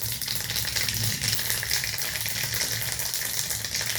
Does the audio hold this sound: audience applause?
no